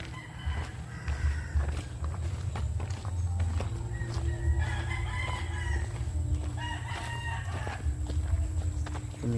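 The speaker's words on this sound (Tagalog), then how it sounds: "Tumitilaok pang manok." A rooster crows a few times outdoors during a walk, clear over a steady background of footsteps and other fowl clucking nearby.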